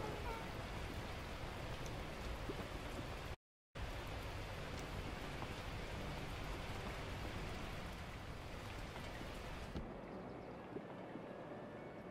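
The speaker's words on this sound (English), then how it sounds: "Et ben voilà, il pleut." Steady rain hisses continuously in the video game Beacon Pines, a broad even wash of noise that drops out briefly once and thins near the end.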